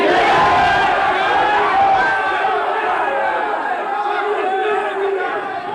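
A large crowd of supporters shouts and cheers at an airport in Funchal, Madeira, a loud, dense wall of overlapping voices that stays steady throughout.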